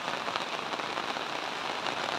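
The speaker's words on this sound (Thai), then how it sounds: "ฝนมาแรงแล้วนะคะทุกคนตกแรงแล้ว" Heavy rain pours down near a banana grove, a dense, steady hiss of drops drumming on surfaces, loud and continuous with no voices.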